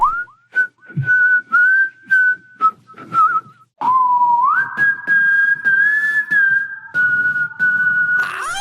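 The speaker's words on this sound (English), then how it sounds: "Also, against Drifter, he mimics the whistling that Drifter does during his ult back at him!" Melodic human-style whistling from the character Drifter during his ultimate ability in the video game Deadlock, a series of short whistled notes followed by longer sustained, gliding tones, loud and close with no talking.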